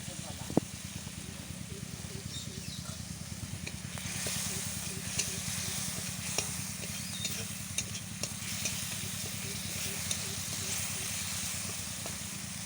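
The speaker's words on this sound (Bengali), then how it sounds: "আদা বাটাটা একটু গরম হয়ে আসলে একটু জল অ্যাড করছি।" Ginger paste fries in a pan with a splash of water added, giving a steady close-up sizzle with small scraping ticks of stirring, while a voice speaks softly underneath.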